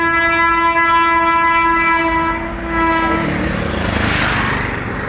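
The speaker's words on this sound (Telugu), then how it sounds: "బ్రిడ్జ్ నుంచి ట్రైన్ వెళ్తుంది, గూడ్స్ రైలు" A goods train rumbles across a bridge with a long, steady horn blast that fades, followed by rolling wheel noise and clatter.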